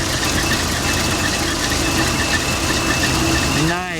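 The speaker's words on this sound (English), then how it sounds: "Little 302 rumble." A Ford 302 V8 engine in a 1973 Ford Maverick rumbles at a steady, low idle up close, its deep throb holding even before briefly dropping off at the end.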